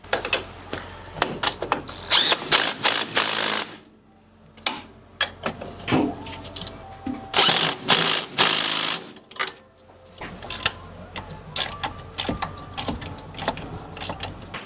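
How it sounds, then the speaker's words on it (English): Close, loud ratcheting from a hand ratchet tightening the rear suspension bolts on a Ski-Doo G5 snowmobile during a torsion delete, in rapid bursts of clicking with brief pauses between runs. "And now go ahead and tighten up all the bolts."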